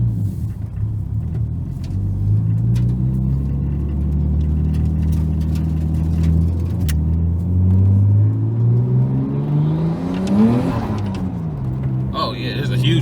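Nissan R33 Skyline with an upgraded Greddy intercooler cruising on the road, its engine droning steadily and rising through a rev sweep near the end, heard from inside the car.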